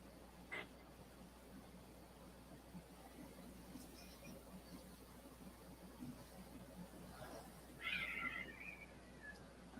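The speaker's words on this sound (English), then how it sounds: "I hear cats fighting outside" Cats fighting outside, a distant yowl and a louder snarling caterwaul near the end, faint beneath a steady indoor hum and a soft murmur.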